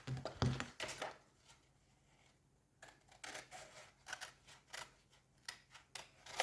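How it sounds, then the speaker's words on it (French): Scissors snip through material for a handmade keychain in a string of short, crisp cuts with brief pauses between them, close and quiet, with no one talking. "je vais couper 2-3 mm au lieu de couper sur le trait"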